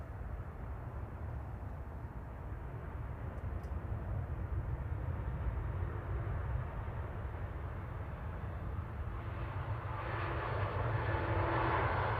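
A Ryanair Boeing 737 MAX 8200 in Malta Air livery rumbles at Manchester Airport, a steady low engine roar that swells slightly toward the end.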